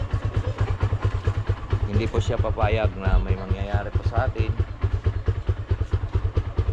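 A motorcycle that had refused to start after being washed now idles nearby with a fast, even, pulsing putter. Someone speaks over the engine almost the whole time.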